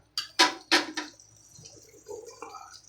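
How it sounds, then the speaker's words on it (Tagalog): Hot water poured into a pot of fish head sinigang, with a few sharp splashes and clinks of pot and utensil up front, followed by softer bubbling and trickling sounds. "lagyan na po natin ng tubig na mainit yung tubig na mainit po"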